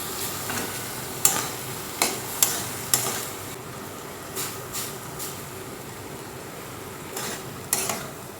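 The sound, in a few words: leftover rice added to sugar syrup in pot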